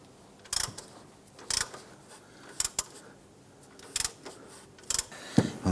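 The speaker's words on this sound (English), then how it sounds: "We're going to go ahead and use an 18 millimeter socket on the nut side here. Let's loosen and remove this." An 18 mm socket on a ratchet loosens an engine mount nut on a 1997-2006 Jeep Wrangler, giving five short bursts of clicking spaced about a second apart, close and fairly quiet, with no talking.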